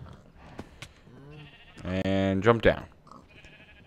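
A sheep in Minecraft (Agrarian Skies 2) gives a loud close bleat with a second shorter bleat right after, between a man's spoken words.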